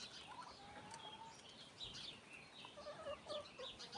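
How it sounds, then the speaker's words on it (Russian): Chickens on a village farm cluck and squawk while turkeys chase them, a busy stream of close bird calls rising and falling over a few seconds. "Ну, индюки курей гоняют"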